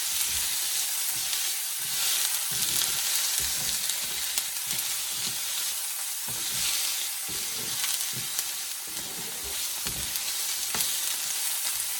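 Onion and tomato sizzle and fry in a hot pan for Spanish rice, a steady dense crackle with occasional stirring scrapes, close and continuous with no talk.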